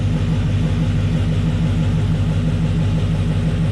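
An LQ4 6.0 V8 with Texas Speed heads and cam, on first start and still untuned, idles with a loud, steady, close low rumble and an even pulsing beat.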